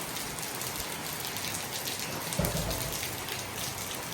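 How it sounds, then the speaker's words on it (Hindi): Steady, dense downpour of heavy rain hissing on surfaces, loud and continuous with no voices, a low rumble briefly swelling midway. "इतनी भयंकर बारिश आई हुई है।"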